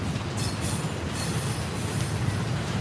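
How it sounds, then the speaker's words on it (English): Norfolk Southern intermodal double-stack freight train carrying domestic and foreign containers rolls past at Horseshoe Curve, Pennsylvania, a steady loud rumble of wheels and cars with a faint squeal over the whole stretch. "Another Norfolk Southern intermodal double stack high priority."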